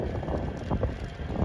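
Rough, constant wind buffeting a microphone, a low rumbling roar that swells and dips without pause.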